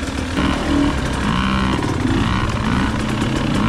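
Enduro motorcycle ridden through a forest, a loud close engine holding a steady mid-pitched drone with small rises and falls in revs, no voices.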